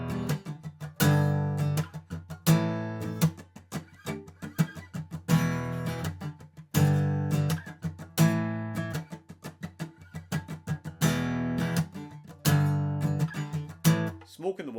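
Acoustic guitar riff with bare-bones chords given a rhythmic feel, repeating in strummed phrases of a few seconds each, loud and close, with no talking over it.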